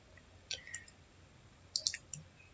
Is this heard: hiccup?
no